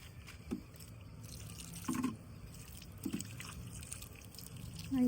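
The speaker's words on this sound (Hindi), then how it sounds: "तो अब मैं इनमें थोड़ा थोड़ा सा पानी डाल रही हूँ।" Water is poured a little at a time into small seed pots filled with soil, heard as faint, sparse drips and soft trickles against a quiet background.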